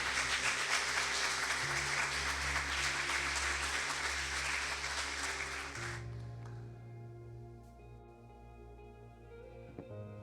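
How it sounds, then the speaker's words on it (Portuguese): Applause from a church congregation at a Sunday family worship service, a dense, steady wash of clapping lasting about six seconds, then dropping away to quiet room tone and soft music. "Vocês podem dar uma salva de palmas enquanto eu tomo água?"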